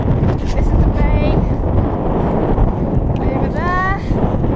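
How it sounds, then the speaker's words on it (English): Strong wind roars and buffets the microphone in a valley in Svalbard, a loud, constant rumbling gust throughout, with faint whistling tones rising and falling over it. "Very windy."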